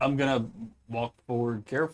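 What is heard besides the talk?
None of the usual background noises is heard.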